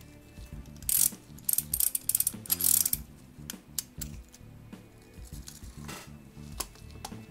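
German mantle clock's strike side being wound under tension, a run of sharp metallic ratchet clicks in quick bursts with small gear and pawl rattles between, close and clear.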